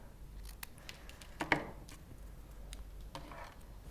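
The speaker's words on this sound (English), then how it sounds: "I'm just going to cut those down." Scissors cutting paper for a handmade spinner card, quiet snips and crisp rustles spread over a few seconds, with one sharper cut in the middle, close and soft.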